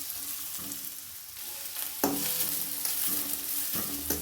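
Chopped onions fry in a pan for a restaurant-style paneer butter masala, a soft constant sizzle broken by several sharp clatters of a spoon stirring at close range.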